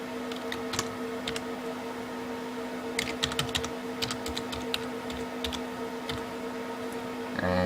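Typing on a computer keyboard, with irregular bursts of close key clicks over a steady electrical hum from a nearby machine.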